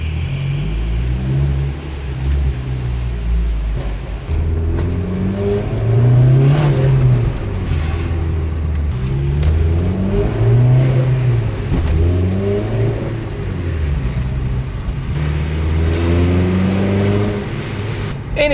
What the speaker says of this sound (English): You'll be able to hear the car a wee bit for the first time, I guess.